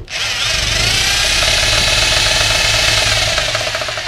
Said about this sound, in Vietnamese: cái chức năng khoan thường anh em xem